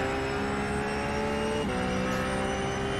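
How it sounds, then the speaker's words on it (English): Engine tones of a racing video game car at Watkins Glen, steady layered whine with a brief pitch dip as another car slips past, continuous and fairly loud throughout. "I just passed a car."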